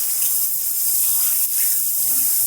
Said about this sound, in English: I'm gonna get in there with my hand and just start to move the rice around as if I'm washing it